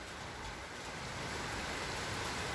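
Heavy rainstorm in Athens, a dense, steady hiss of downpour drumming on surfaces, even and unbroken for a couple of seconds at moderate distance.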